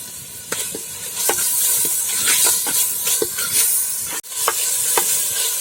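Dry fish sizzles and hisses steadily in a hot pan as salt goes in, with a constant frying hiss broken by repeated scraping stirs and small crackles, close and fairly loud with no talk.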